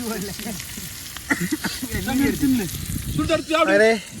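Freshly caught fish fry in a pan at a beachside spot, a soft continuous sizzle running under lively close conversation.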